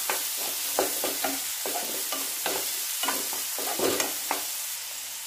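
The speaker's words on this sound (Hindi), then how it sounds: "टमाटर डालने के बाद अच्छे से मिला लीजिए प्याज और लहसुन" Fried onion, garlic and chopped tomato are stirred in a sizzling pan, with repeated scraping strokes of the spoon over a steady fry, close up.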